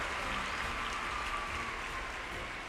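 A large gathering of girls and families at a Madhya Pradesh state event claps together in a steady, uniform wash of applause, heard somewhat distant and moderately quiet.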